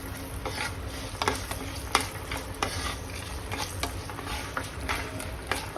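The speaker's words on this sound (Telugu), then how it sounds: "కరివేపాకు, పచ్చిమిర్చి, బాగా వేగాలండి." Curry leaves and green chilies frying in hot oil, a soft continuous sizzle broken by regular scraping strokes of a spoon stirring the pan.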